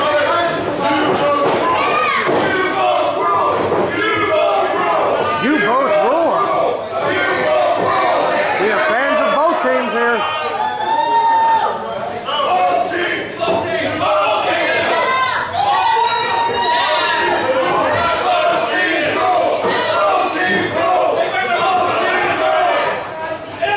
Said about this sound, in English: Listening to the crowd here, literally split.